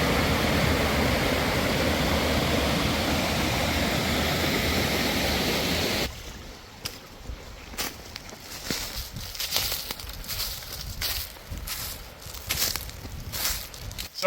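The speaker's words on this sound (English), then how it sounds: "Very sandy bottom stream." Water flows over a sandy-bottomed stream in a forest, a steady broadband rush that is loud at first, then quieter with irregular splashing and gurgling close by.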